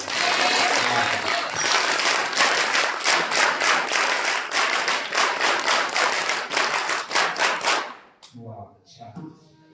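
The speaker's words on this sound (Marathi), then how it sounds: "तुम्ही जोरात टाळ्या वाजवा" Loud, dense applause from an audience at a kirtan program during a winter service camp, sustained for about eight seconds before stopping abruptly, with a few voices and scattered sounds after.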